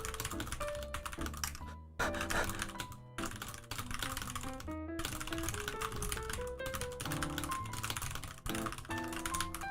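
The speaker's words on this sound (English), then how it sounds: "Wait, I can't type today" Rapid typing on a computer keyboard, dense clicking keystrokes with brief pauses, close and fairly quiet, with background music.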